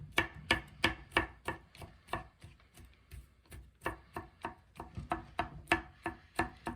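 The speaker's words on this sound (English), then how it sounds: "go ahead and just chop all these large cloves up" A knife rough-chops large garlic cloves on a board in quick, uneven bursts of sharp, close thwacks, about twenty strikes with brief pauses between runs and no talk.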